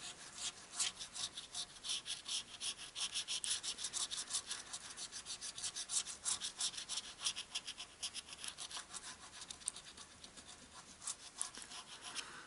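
An FDJ lottery scratch card from the Paris 2024 Olympic Games series being scratched, a steady run of rapid dry rasping strokes close up, moderately loud and continuous with no talking.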